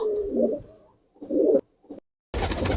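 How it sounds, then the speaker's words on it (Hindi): Pigeon cooing, a household pigeon kept by a pigeon fancier, in two soft low bursts separated by a pause, followed by a sharper louder noise at the end. "ये तो हमारे घर पे एक मकोया कबूतर है"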